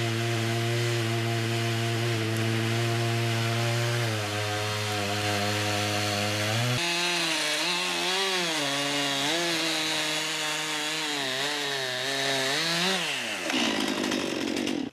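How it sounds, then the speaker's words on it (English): A chainsaw cuts through a log, its engine whining at high revs with pitch shifts as the bar bites into the wood, then easing off at the end; loud and close with no talking. "Having cut off the section to about 9 feet, he then resets the chainsaw unit and he can take off more length."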